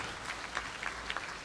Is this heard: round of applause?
yes